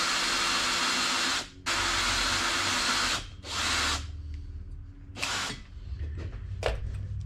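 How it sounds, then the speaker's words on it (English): A power drill on low speed whirs in several bursts, stopping briefly between runs, close and fairly loud, with quieter handling noises in the gaps. "I don't have this drill on high speed, I have it on low speed."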